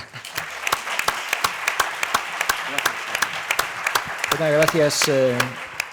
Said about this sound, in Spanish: yo creo que le damos un aplauso, ¿no?